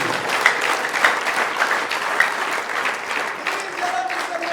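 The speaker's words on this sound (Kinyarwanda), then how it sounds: "Niba ubyakiriye ukomere Imana amashyi menshi" Church congregation applauding during a sermon, sustained clapping from a crowd with a few sharper claps standing out, steady and moderately loud throughout.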